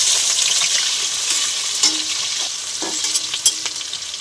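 Chopped onion hits hot oil in a pan already holding dried red chillies, cardamom, cinnamon, bay leaf and cumin, giving a steady, dense sizzle with soft stirring scrapes and a few sharper spatula clicks, with no talking.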